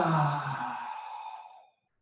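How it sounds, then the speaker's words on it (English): A person does a basic yawn during a guided body-relaxation exercise, heard as one breathy exhale that starts loud and fades out over about a second and a half, with no talk. "We're first going to try to just do a basic yawn."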